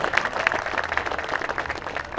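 An audience at a surfboard builders hall of fame event applauds, a dense, steady wash of many hands clapping at once, close and continuous throughout.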